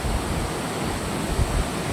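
Water flows steadily beside a riverside campsite at Muak Lek, Saraburi, a close, continuous rushing wash with a few soft low thumps and no voices.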